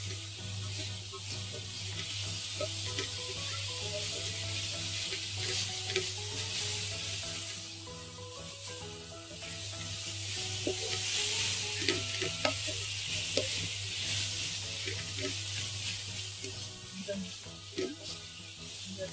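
A sour-spicy chalta (elephant apple) achar is stirred as it fries in a pan, with continuous sizzling and repeated scraping of the spoon against the metal under a steady low hum.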